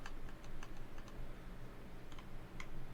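Typing on a Corsair RGB 95 computer keyboard gives quick, light clicking keystrokes in short irregular bursts, close and fairly quiet, with no talk over them.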